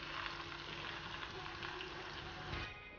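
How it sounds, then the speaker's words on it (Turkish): A steady, soft sizzle of liver frying in a hot pan, with crackling pops throughout and no talking. "kalan diğer ciğerleri de kızartıyoruz"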